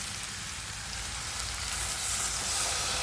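A fish head frying in a pan with a close, continuous, crackling sizzle that grows a little louder, with no voices.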